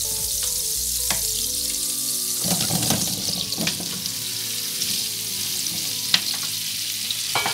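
Potatoes go into butter in a pan and sizzle steadily, with scraping and stirring clatter from utensils throughout.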